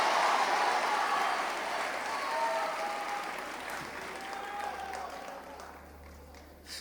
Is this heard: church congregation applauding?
yes